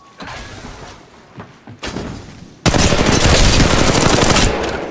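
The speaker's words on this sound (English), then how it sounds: "I'm taking shots." Machine gun fire in the Apex Legends Mobile video game: scattered thuds and short shots at first, then a loud, sustained burst of rapid automatic fire that runs to the end.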